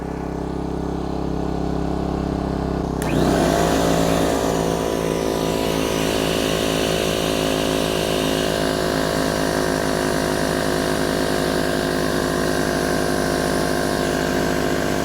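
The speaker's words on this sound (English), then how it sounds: "No problems at all running the air compressor and the hair dryer." A hair dryer's steady whooshing hum runs alone, then an 8-gallon pancake air compressor kicks in after a few seconds and keeps droning continuously alongside it, both powered by a 3000-watt dual fuel inverter generator.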